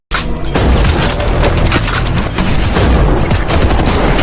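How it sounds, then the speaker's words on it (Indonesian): Intense gunfight from the film Badland Hunters, with dense bursts of automatic fire and heavy booms overlapping continuously at close range, loud throughout with no voices. "Dan baku tembak pun terjadi."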